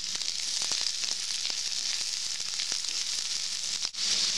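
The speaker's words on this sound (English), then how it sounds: "Now the oil is hot, add the onion slice in the oil and fry it light golden brown." Sliced onion fries in hot oil with a loud, constant hiss and crackle that stays even throughout, with a brief dip near the end; no voices.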